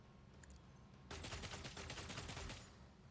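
Gunfire in Warhammer 40K Rogue Trader: after a quiet start with faint clicks, a loud burst of rapid, rattling shots erupts and runs for about a second and a half before cutting off.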